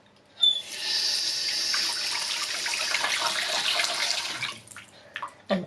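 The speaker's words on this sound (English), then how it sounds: "turning on the tap" A household water tap is turned on with a short squeak and gush, then runs in a steady hissing stream for several seconds before shutting off with a few drips and clunks.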